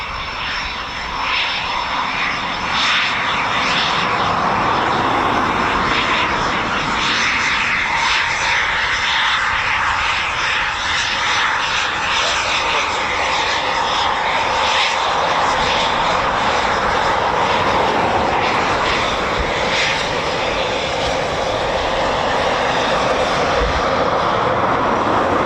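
A Eurofighter Typhoon FGR4 fighter jet of the RAF flies past an air station, a loud, sustained roaring rumble that swells and drifts across the sky for a long stretch without talk.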